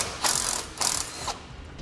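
A ratchet wrench fitted with a 1/2 inch socket backs off a nut during a fifth wheel hitch install on a 2008 Ford F-450, making two rapid clicking bursts close up, each lasting about half a second.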